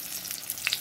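Eggplant slices coated with cheese sizzle in hot oil, a soft steady crackle with a few sharper pops near the end, heard up close with no talking.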